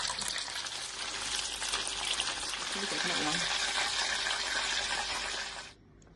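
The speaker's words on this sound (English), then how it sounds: "Now it's time to fry." Spinach and cheese balls frying in hot oil, a steady bright crackling sizzle that holds evenly for several seconds before cutting off abruptly.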